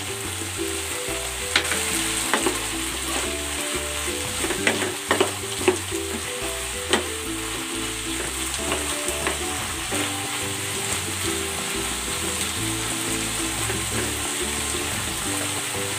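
Chili chicken with labuyo chilies frying in a pan, a steady close sizzle with crackles and occasional sharp pops and stirring scrapes, no voices.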